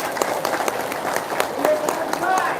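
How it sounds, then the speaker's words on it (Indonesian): An audience claps in a steady patter that builds slightly. The applause is moderately close, mixed with crowd noise and a voice speaking over it. "Tepuk tangan dulu dong."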